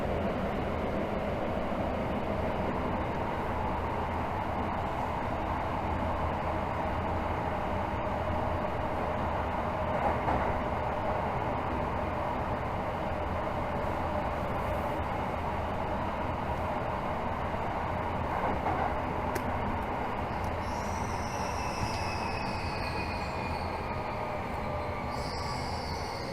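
Tokyo Metro Hibiya Line 13000 series train running between stations, a steady loud rumble of wheels and motors with faint high squeals near the end, no voices.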